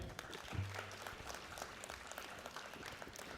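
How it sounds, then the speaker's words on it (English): A conference audience at a technical session gives a presenter a round of applause, a soft, distant wash of many hands clapping steadily throughout. "Let's give her another round of applause for Shreya."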